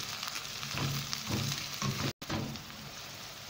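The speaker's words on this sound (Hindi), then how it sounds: "अच्छी तरह फ्राई हो गया सब" Green chillies and green onion masala fry in hot oil while being stirred, giving a steady close sizzle with crackling pops and a very brief dropout partway through.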